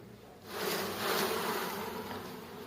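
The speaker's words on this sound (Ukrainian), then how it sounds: "Зараз ще трушу її бджолу, льотна бджола злетить." A dense swarm of Buckfast honeybees buzzing as a frame is shaken suddenly swells up and stays loud and steady, filling the space close by.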